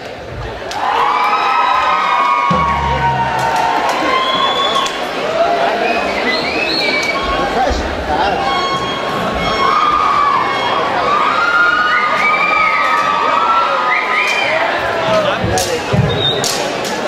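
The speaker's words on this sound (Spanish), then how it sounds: "Un fuerte aplauso por favor para Ajax." A pageant audience in Mexicali claps, cheers and whistles, making a dense, loud, continuous crowd roar that lasts throughout, with scattered shouts rising above it.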